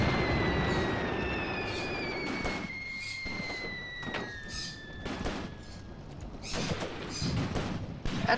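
Artillery in the Graviteam Mius Front war game booms and rumbles through a dense, noisy battle soundscape, with sharp blasts breaking the steady roar and whistling shells streaking past overhead.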